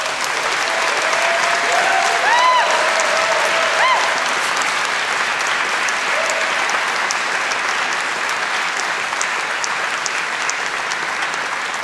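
Graduates at a Strathclyde Business School graduation ceremony applaud their families and friends, a sustained, dense roar of clapping from a large hall crowd, steady and loud throughout.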